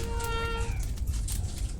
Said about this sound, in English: Cat wants to join us.